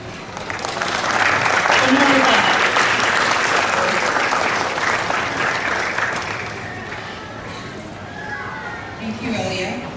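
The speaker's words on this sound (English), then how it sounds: "I would like you to turn around and give a round of applause to your family, friends who supported you along your journey here" Graduates at a college commencement applaud their families and friends, a loud, sustained wave of clapping from a large crowd that gradually fades, with voices mixed in near the end.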